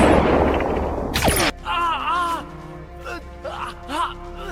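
A sharp, loud gunshot cracks once amid a rushing noisy struggle, followed by pained gasps and groaning cries from a wounded person in a special-forces sniper film.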